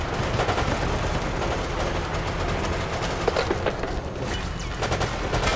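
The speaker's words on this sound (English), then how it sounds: "Why do I even shoot these guys?" Sustained rapid gunfire from shooting enemies in the video game Operation Raccoon City, a dense, continuous automatic barrage with scattered louder shots and booms.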